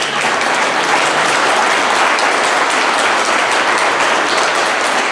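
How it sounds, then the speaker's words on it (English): A dense, steady round of applause from a conference audience at a company summit fills the whole stretch, loud and close, with no talking over it. "round of applause for everybody that was involved in that project"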